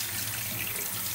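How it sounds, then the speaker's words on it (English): Tap water runs steadily, rinsing vinegar off a leaking-capacitor-damaged Macintosh SE/30 logic board, a close, continuous faucet splash with no voices. "carefully rinsing off the vinegar with some water"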